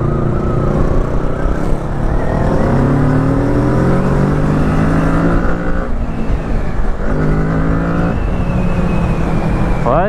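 Kawasaki Z650 A2 motorcycle riding, its engine note steady and loud throughout with rising and falling pitch as it accelerates and shifts, close to the microphone with no talk over it.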